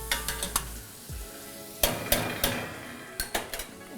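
Ginger garlic paste sautéing in a pan for malai kofta, with a soft sizzle under sharp clinks and scrapes of a utensil stirring against the metal, several quick knocks in bursts.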